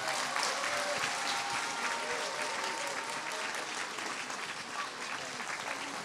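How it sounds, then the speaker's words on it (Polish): Sustained applause from an outdoor audience beside a church after a children's choir performance, broad and even clapping from many people filling the whole stretch at a steady level. "Brawa dla dzieciaków."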